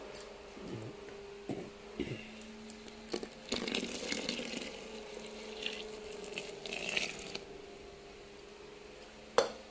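Water gushes into a pot in a quiet room, preceded by a few soft clinks and knocks, with a sharp clank at the end.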